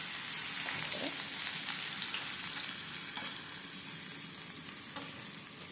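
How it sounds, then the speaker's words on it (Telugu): Onions hit hot oil in a pan with other ingredients, producing a constant dense sizzle with a few soft stirring scrapes and one sharp tap near the end, close and steady. "ఇప్పుడు ఎర్రగడ్డలు వేస్తాము"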